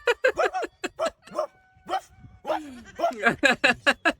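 A small dog barks repeatedly in quick, loud yips and bow-wows at a home, the barks coming in bursts with brief gaps and some whimpering tones.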